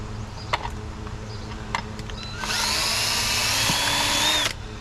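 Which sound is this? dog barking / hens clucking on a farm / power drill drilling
power drill drilling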